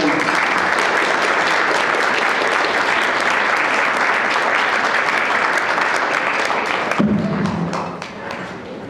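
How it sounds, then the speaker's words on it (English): Dense, sustained applause from an audience at a scholarship award ceremony honouring the award winners, loud and continuous before it thins out near the end. "So let's give all of our award winners a round of applause."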